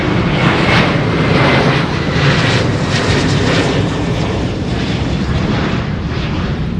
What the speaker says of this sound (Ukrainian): бачу ще один літак злітає